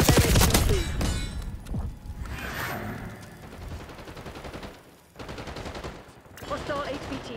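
Call of Duty: Black Ops 6 Kill Order match gunfire: loud bursts of automatic fire and single shots crackling in rapid clusters, mixed with thuds and game voice callouts between the volleys.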